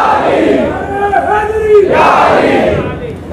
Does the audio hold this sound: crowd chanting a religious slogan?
yes